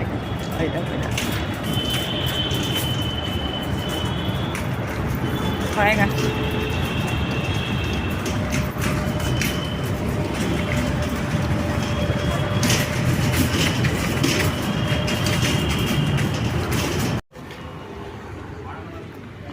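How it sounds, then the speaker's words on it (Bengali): A metro train passes nearby with a steady, broad rumble that lasts most of the time. People talk over it, and the sound cuts off abruptly near the end. "মেট্রো যাচ্ছে"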